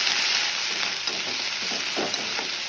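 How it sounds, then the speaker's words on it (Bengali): Chopped onion sizzling and frying in hot oil, a steady close crackle with faint stirring taps throughout and no voices. "আর এই যে তেলের মধ্যে এখন দিয়ে দিব ওই যে পেঁয়াজ"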